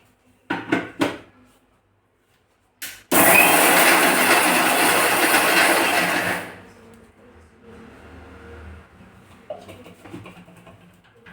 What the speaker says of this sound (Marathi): आता हे मिक्सरला आपण बारीक करून घेऊ